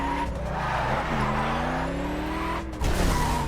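A car in The Crew racing game drives with a steady engine drone that rises and falls through the gears, tires squealing under it, then a brief dip and a louder surge of revving near the end.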